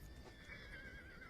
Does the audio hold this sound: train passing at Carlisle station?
no